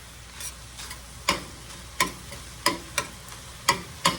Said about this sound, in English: let's stir that around in it. Give it a little stir and look at it